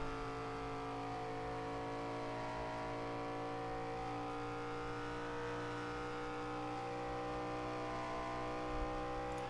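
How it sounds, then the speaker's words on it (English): Race cars on the Michigan track in FARCA Premier Series racing drone at high, sustained revs, a dense, continuous engine whine that holds steady throughout. "You can hear just how wound up these cars are."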